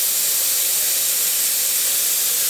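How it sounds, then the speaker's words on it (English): Steam venting steadily from a pressure canner while canning chicken, a loud, continuous close-up hiss with an even, unbroken roar and no pauses. "See how it's a steady stream of steam? Right there. That is properly venting."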